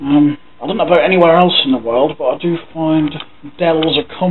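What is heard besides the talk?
No everyday noise stands out behind the speech.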